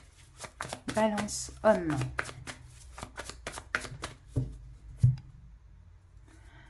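Tarot cards are cut and shuffled at close range in rapid rhythmic flicks and slaps, with a brief spoken phrase in French partway through and a firm tap near the end before quiet.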